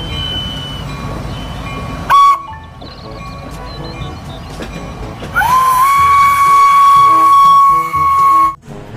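A Thomas the Tank Engine toy train plays sounds: a short whistle toot, then a long sustained whistle tone running for about three seconds, over a quieter busy backdrop of toy rumble and chatter-free background noise.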